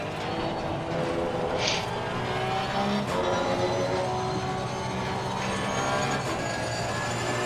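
A race car engine from Assetto Corsa Competizione runs at Zolder with a steady, loud drone at high revs. It holds on with little change in pitch, and no one speaks over it.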